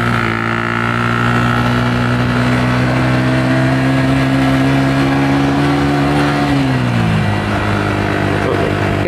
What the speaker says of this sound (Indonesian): Oh ada mobil mau lewat.